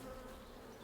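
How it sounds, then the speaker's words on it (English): Bees buzzing in a video game, a faint, continuous drone hovering steadily with no speech over it. "I do want to stay away from the bees."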